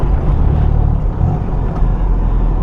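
Toyota Hilux 4x4 truck engine droning steadily while driving in fifth gear, a loud, close, continuous low rumble with road noise and no talk.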